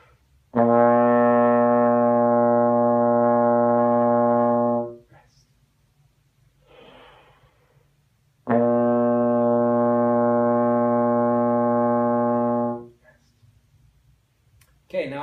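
Trombone plays a beginner band-book exercise from Essential Elements, two long sustained low notes, each held about four seconds with a pause between them; close and steady, with a brief breath or voice noise in the gap.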